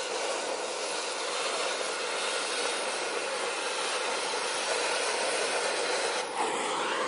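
A DHC2000 torch slicing through thick steel makes a dense, steady roaring hiss that holds evenly close by for several seconds, with a faint brief change near the end.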